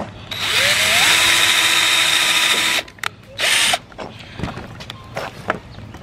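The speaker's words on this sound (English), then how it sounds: "pre-drill the hole." A power drill whirs steadily for a few seconds, pitch climbing as it spins up while pre-drilling a hole in wood for a privacy fence, then stops; short bursts and clattering handling noises follow.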